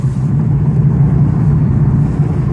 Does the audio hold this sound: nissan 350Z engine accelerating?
yes